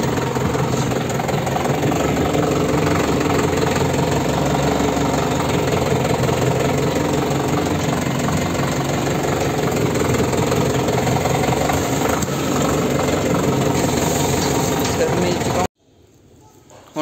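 A tractor engine runs loud and steady as it works to pull free from mud in a Punjab farm field, a continuous heavy drone that cuts off abruptly near the end.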